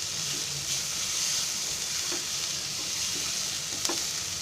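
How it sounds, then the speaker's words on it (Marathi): A roasted chickpea mix for chole bhaji sizzles steadily in a hot pan after the gas is turned off, while a spoon stirs it with soft, irregular scrapes close by. "आता मी गॅस बंद करते आणि जरा हलवते, कारण ते पॅन गरम आहे ना"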